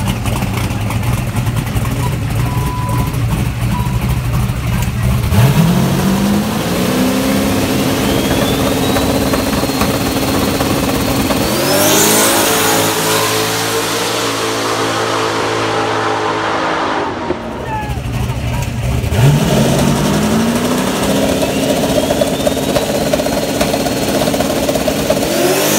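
An 1800hp turbocharged Mustang at a drag racing shootout, first round: loud engine revving and idling with rising throttle sweeps, a roaring full-power pass mid-clip, then engines rev again afterward, with crowd and track noise around.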